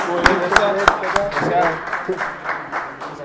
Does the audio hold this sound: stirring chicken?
no